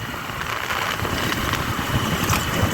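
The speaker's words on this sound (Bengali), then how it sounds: "আর পলাশ এখন যেভাবে বাইক চালাচ্ছে" A motorcycle riding along a village road past banana plantations and a canal, a continuous rumbling engine and wind rush, close and loud, with no talk.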